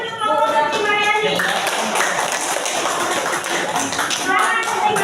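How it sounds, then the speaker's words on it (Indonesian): A room full of people at a teacher training session claps together, a dense, steady burst of applause mixed with scattered voices and shuffling. "Tepuk tangan untuk kelompok Siti Mariani."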